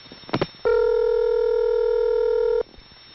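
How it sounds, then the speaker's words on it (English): An Allentown ESS telephone exchange connects through with a couple of quick clicks and ticks, then a steady, loud ringback tone sounds for about two seconds before cutting off abruptly. "This is the sound of the Allentown ESS connecting through to another ESS, which immediately starts ringing."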